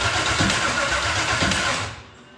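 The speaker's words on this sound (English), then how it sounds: "Try cranking it over now." Car engine cranking over loudly and steadily during a first-start attempt after spark plug work, with rhythmic starter pulses for about two seconds before it cuts off and stops.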